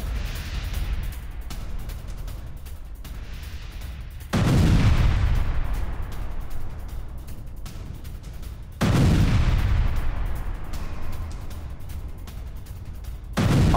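Anti-tank guided missile launches and strikes during an IDF attack on Hamas positions in Gaza: two heavy booms with long rumbling decays rise over continuous crackling, distant gunfire-like noise.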